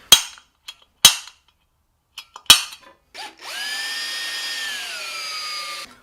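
A power drill bores into an aluminum prospecting shovel, preceded by several sharp clicks and taps, then a steady high whine of the drill running for a couple of seconds before stopping abruptly.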